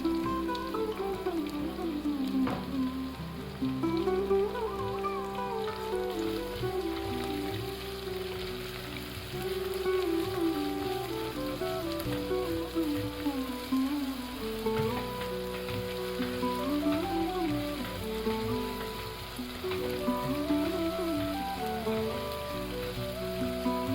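Chopped onions sizzle in hot oil with fried green chillies for dal fry, a steady soft crackling hiss that runs on throughout under background music.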